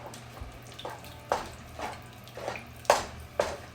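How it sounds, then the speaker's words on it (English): Water poured from a kitchen tap into a dish of shrimp, rutabaga and cheese bake, heard as a faint trickle with soft splashes and clinks of cookware at irregular intervals, no talk. "I'm going to go add some more water"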